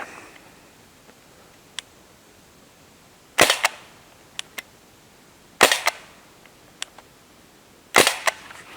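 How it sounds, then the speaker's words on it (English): A Crosman 1077 air rifle fires at a can downrange, three sharp, loud cracks spaced a couple of seconds apart, with a few faint ticks and clicks between shots. "let's see about taking out that can downrange"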